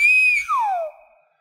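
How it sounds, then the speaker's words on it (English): A nose flute plays a short, clear whistled tone that holds steady, then slides smoothly downward and fades out, heard alone and close. "This is a nose flute, okay?"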